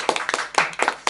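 A few people clap briefly in a small studio, sparse uneven hand claps at close range with short gaps between them.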